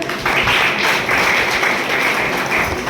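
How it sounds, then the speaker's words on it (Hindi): Loud, dense clapping from an audience at a business seminar, a continuous burst of applause lasting a few seconds with no talk over it. "अरे तो जोरदार ताली बजाइए"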